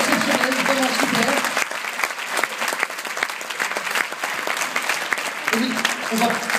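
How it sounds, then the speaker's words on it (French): Audience applause at a French film premiere screening, dense sustained clapping from a crowd throughout, loud and close, with voices talking over it at moments. "on applaudit encore bien fort s'il vous plaît"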